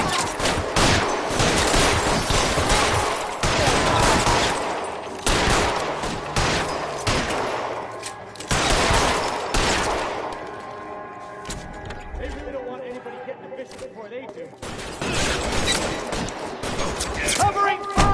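Bursts of gunfire in the 1940s Los Angeles crime game LA Noire, loud volleys separated by short lulls, with voices talking in between and over the shots.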